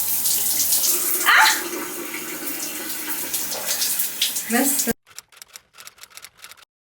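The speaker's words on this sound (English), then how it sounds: "I need to walk into the shower fully clothed" Steady shower water rushing and spattering for about five seconds, filling the room, then cutting off abruptly, leaving a few faint ticking clicks.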